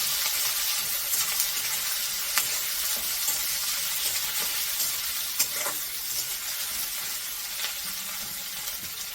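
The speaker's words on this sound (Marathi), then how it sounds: "टोमॅटो पण चांगला मऊ होईपर्यंत परतायचा आहे चांगला।" Tomatoes sautéing in a pan for white upma, a steady broad sizzle and frying hiss with occasional soft clicks and stirring scrapes, close and continuous with no talking.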